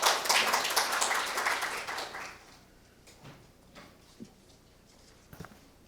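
A dense burst of audience applause greets the opening address at a National Assembly policy forum on shipbuilding and defense. It is loud for about two seconds, then thins into a few scattered claps over a quiet room.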